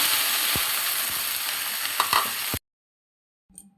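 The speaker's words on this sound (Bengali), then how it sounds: "একটু নেড়ে চেড়ে দিয়ে ঢেঁড়সগুলি দিয়ে দিব" Okra fries in soybean oil with cumin and dried chilies, giving a loud, dense, steady sizzle with a few stirring knocks. It cuts off abruptly into silence, followed by a brief faint clatter near the end.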